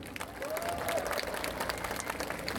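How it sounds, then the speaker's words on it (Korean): Audience applause at a Korean political rally honoring a comrade, sustained clapping from a crowd heard at a moderate distance, fairly faint and even, with a brief tonal sound passing through early on. "번창하신 윤희옥 동지에게 박수 한번 더 주세요"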